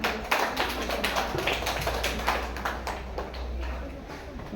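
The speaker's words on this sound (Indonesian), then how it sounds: "Boleh kita beri tepuk tangan Bapak Ibu." A crowd of parents and teachers at an elementary school farewell for retiring teachers gives a dense, steady round of clapping that carries throughout, with a voice briefly audible beneath it.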